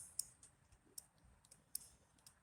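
A magnet clicker fidget toy clicks quietly about five times in an irregular rhythm, each a sharp, faint click close by against near silence.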